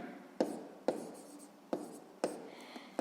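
A pen writes out a sixth-grade math solution on paper, with quiet scratching broken by five sharp taps at roughly even intervals, close and alone.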